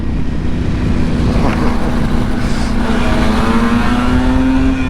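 Riding a Yamaha RD250 two-stroke motorcycle gives a loud, steady engine drone with a rasping buzz and wind roar throughout, recorded close from the bike, with no talking.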